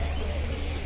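Birds at an outdoor pet market call and coo constantly in a dense, noisy wash with no clear separate notes.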